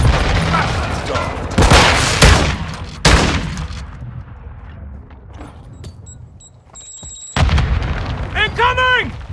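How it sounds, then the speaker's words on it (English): A grenade detonates in Call of Duty: Modern Warfare II with loud booming blasts and bursts of gunfire, followed by quieter rumble and short electronic tones; voices call out in the game. "Throwing grenade!"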